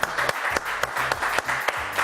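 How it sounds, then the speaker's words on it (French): A studio audience breaks into applause, a steady patter of many hands with sharper individual claps standing out near the microphone, continuing without pause through the moment. "je vous demande d'applaudir très très fort"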